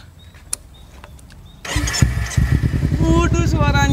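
A borrowed motorcycle's engine cranks and catches after a quiet stretch with faint clicks, then settles into a loud, close, sputtering idle.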